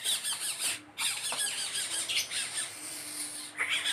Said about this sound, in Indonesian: ini kita dapat burung bubut anakan ya